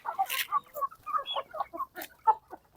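Native chickens clucking close by, a busy run of short, irregular clucks and squawks with no talking over them.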